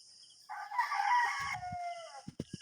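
A rooster crows once at five in the morning, a long, loud, clear call from nearby, followed by a few short clucks.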